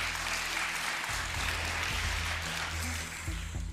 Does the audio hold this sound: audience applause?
yes